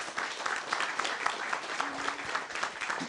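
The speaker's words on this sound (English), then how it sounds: "So let's give both of them a round of applause." Audience at a candidate forum gives a round of applause for two volunteers, a brief, somewhat muffled and distant patter of clapping lasting a few seconds with a faint murmur beneath.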